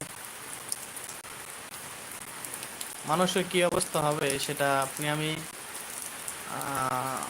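Heavy rain falls steadily in Shariatpur, a continuous hiss beneath someone speaking in Bengali for much of the stretch.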